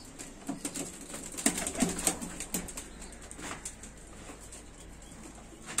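Pigeons coo softly inside a coop, repeated low throaty calls in short bursts with a few rustles and wing sounds, close by and fairly quiet, with no talk.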